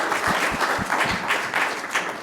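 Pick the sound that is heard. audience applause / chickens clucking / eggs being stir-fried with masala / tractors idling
audience applause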